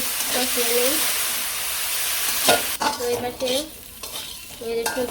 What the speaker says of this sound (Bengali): ভালো করে সবজি কষিয়ে নিচ্ছি